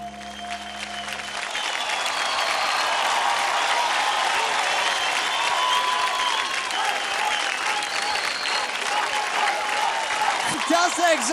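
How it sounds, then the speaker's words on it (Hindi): A television studio audience applauds after a dance performance on Dance India Dance, a loud, sustained wash of clapping that holds for about ten seconds before a voice begins to speak at the very end. "जोरदार तालियां हो जाए"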